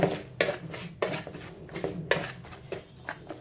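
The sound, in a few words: mixing brownie batter with walnuts in a bowl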